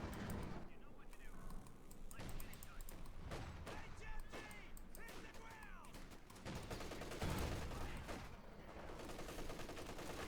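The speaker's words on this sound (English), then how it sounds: "Machine gun there holding up an assault here." Machine gun fire and scattered gunshots rattle through a Company of Heroes 2 battle, repeated bursts mixed with other combat noise, all under a caster's continuous commentary.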